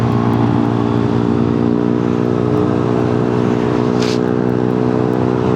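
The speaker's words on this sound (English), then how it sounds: "That's a solid exhaust for an RN5, yeah? I think it's HC Project. Short can, that is." Yamaha RN5 motorcycle with a short HC Project can exhaust, a steady loud engine drone with strong low harmonics held at near-constant revs, close by, with a brief higher whoosh partway through.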